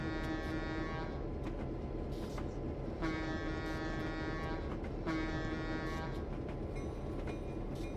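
A locomotive horn sounds in a train simulator game, three long, loud tonal blasts at regular intervals over a steady rolling rumble of the train.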